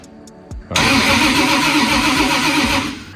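A 1000 hp 2JZ engine in a Nissan Skyline wagon starts for the first time: a few brief starter clicks, then it catches and settles into a loud, rough, steady idle.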